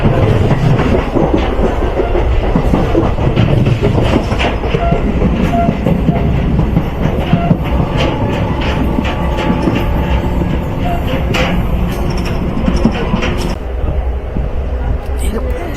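A passenger train runs on rails in northern West Bengal, giving a loud, close, continuous rumble with steady clickety-clack of wheels, heard from inside the carriage throughout.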